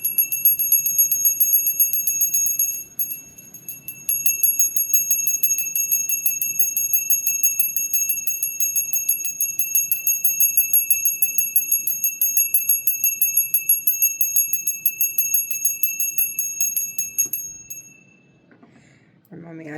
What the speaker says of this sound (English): Can I do the bell?